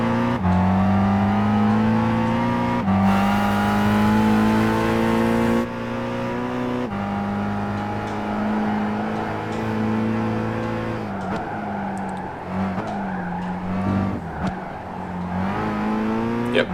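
A car engine in the Gran Turismo 5 racing game, on an intermediate event at the Nürburgring, revs loud and close, climbing and dropping through gear changes, with steady high-pitched whine and brief shifts near the end.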